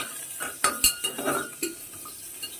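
A spoon scrapes and clinks against a pan while stirring potatoes, ridge gourd and bottle gourd fried with cumin, several distinct knocks and scrapes over soft sizzling.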